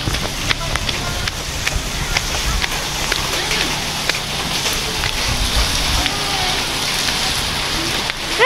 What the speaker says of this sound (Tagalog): Ay, lakasan ng ulan.